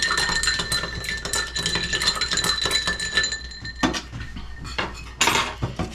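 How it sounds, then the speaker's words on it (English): A spoon clinks rapidly against a glass while stirring a cocktail of fresh lemon juice and sugar, a steady rattle of close, bright metal-on-glass taps with a slightly heavier clatter near the end. "Because I'm using sugar, I want to give that a really good stir."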